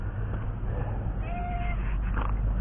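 A single short meow from a cat blind in one eye, heard faintly beneath a loud, steady motorcycle engine idling nearby in a garage.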